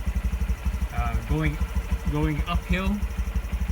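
A Honda Trail125 motorcycle engine held at its rev limiter with no load drones in a fast, pulsing buzz close by, while someone talks over it.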